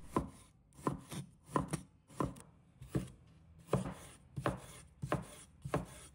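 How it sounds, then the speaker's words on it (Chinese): A knife slices a short piece of pickled sour radish into small pieces on a board, giving a steady series of crisp chops in small bursts, close and fairly quiet, with no talk. "准备一小段酸萝卜，把它切成小片"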